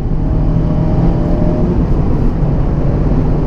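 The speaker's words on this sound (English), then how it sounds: "It's actually quite a bit louder than we expected it to be," Inside a Mazda Miata convertible on the move, a loud, steady low engine drone blends with road and wind rumble, with no one speaking.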